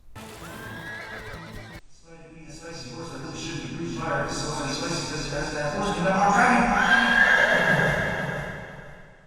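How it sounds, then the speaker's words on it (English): A lizard-like raptor creature in the Panzer Dragoon Remake video game gives a loud horse-style neigh and whinny, with clip-clop hoofbeats and game effects mixed in, building to a loud peak near the end. "did that lizard just neigh like a horse?"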